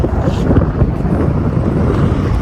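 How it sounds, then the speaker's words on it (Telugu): Heavy wind buffets the microphone beside frozen Lake Geneva in winter, a loud continuous low rumble with no gaps and no speech. "విండ్ చాలా హెవీ ఉండేసరికి అర్థం కాలే"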